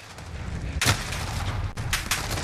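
H&K UMP45 submachine gun firing in Call of Duty Modern Warfare, a few sharp, close shots spaced apart over a low background rumble rather than a sustained automatic stream.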